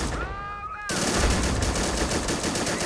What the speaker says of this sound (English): A lot of 30 cals firing up.